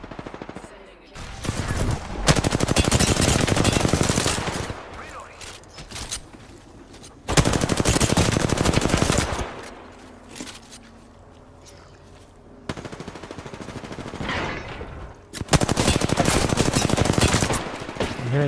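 Heavy automatic fire in a duo arena shooter match comes in several long, loud bursts split by quieter pauses, close and intense, with a player talking in between.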